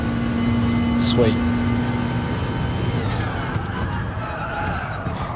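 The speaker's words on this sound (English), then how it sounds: "Sometimes the engine sounds just a touch crisper if I just do it like, oh, wrong gear." A car engine in the racing game Gran Turismo Sport, Dragon Trail Seaside track, revs steadily and then changes note around a gear shift, with someone talking over it throughout.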